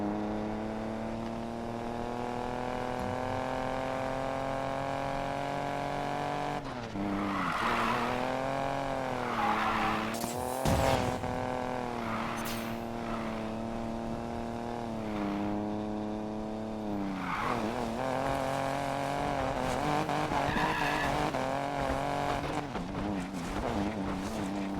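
Race cars in Need for Speed Payback roar at steady high revs with tires skidding and squealing, engine tones sliding up and down, loud and continuous throughout.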